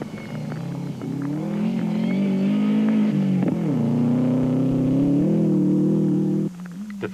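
A Toyota rally car, one of the A7 class cars, drives a stage of the 2007 Gauteng rally, its engine revving loud and close in a sustained climbing drone with gear shifts, then dropping off abruptly near the end.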